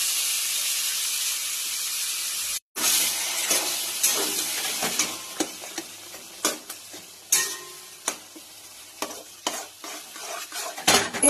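Mashed taro frying in mustard oil, a loud hissing sizzle that cuts out briefly, then returns with repeated scraping and tapping strokes as it is stirred, close by.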